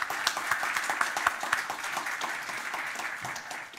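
Audience applause at a panel discussion on robots taking people's jobs, a dense patter of many hands clapping with a few sharper claps standing out, moderately loud and steady, fading slightly toward the end.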